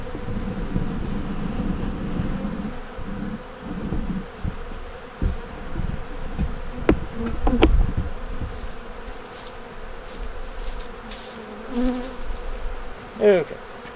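Honey bees buzz steadily around a hive holding a few dead bees after cold weather. A low, continuous hum runs throughout, with a few louder passes of single bees close by.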